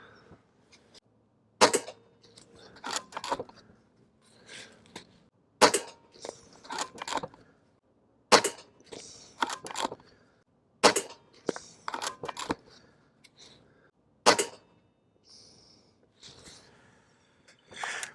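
A Gamo Urban .22 air rifle firing Crosswind Premier pellets: a series of sharp, snappy shots spaced a couple of seconds apart, each followed by brief rattles of handling and cocking, with no talk over them.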